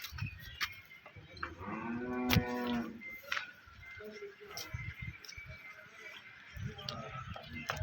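A Nili buffalo gives one loud, drawn-out moo that lasts about a second, while someone talks around it and outdoor farm noise carries on in the background.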